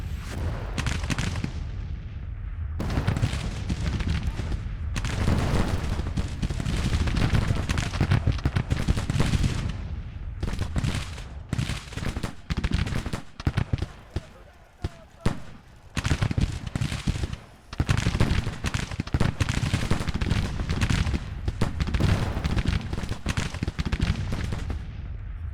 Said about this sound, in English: Hopefully my artillery fire forces them to move forward or pull back.